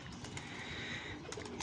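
Pigeons coo softly in low, murmuring tones, with faint rustling and a few light background clicks.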